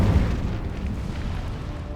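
Incendio fire spell cast in Hogwarts Legacy on PS5, a loud low whooshing burst of flame that rumbles and slowly fades, with no talk.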